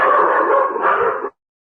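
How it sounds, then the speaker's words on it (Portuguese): Dogs give one sustained close whining yelp lasting over a second, loud and tonal, before cutting off into silence. "Desculpa o barulho aí dos cachorros."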